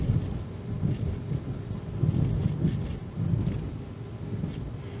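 Steady low rumble and road noise fill the inside of a moving car, a continuous muffled drone with no voices.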